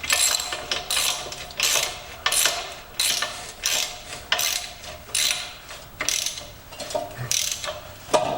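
A socket ratchet tightening bolts on an old, stiff Brinly sleeve-hitch disk harrow: loud, close, rapid clicking in repeated bursts with short pauses between strokes, metallic and continuous throughout.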